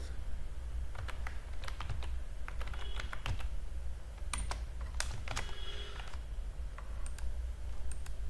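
Steady typing on a computer keyboard while entering Python code for a user login system, with quick irregular key clicks and occasional louder taps over a low background hum.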